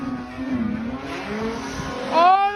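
A race car spins through a 270-degree turn, its engine revving and swinging in pitch before a rising tire squeal breaks out near the end, close and loud.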